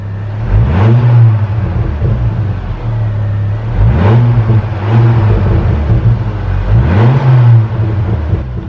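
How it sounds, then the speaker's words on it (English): Ford Focus ST225 fitted with an AIRTEC plenum, revved in three sharp blips with a steady idle between them, loud and close, with a faint turbo whistle rising on each rev. "let's give it a little bit of a rev."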